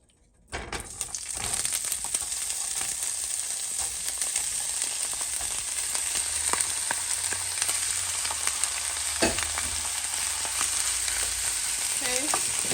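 Broccoli fries in olive oil in a pan for shrimp and broccoli, starting with a sudden burst of sizzle that settles into a steady, close crackling hiss with occasional stirring.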